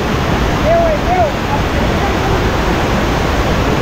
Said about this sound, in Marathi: पाठीमागे धबधबा वाचतोय.